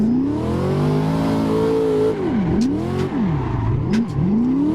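A Corvette engine in the Assetto Corsa racing game revving and drifting, a loud smooth rising whine that then dips and surges repeatedly as the throttle is tapped, with faint tire squeals.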